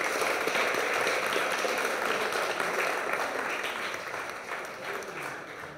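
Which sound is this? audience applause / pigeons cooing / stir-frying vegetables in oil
audience applause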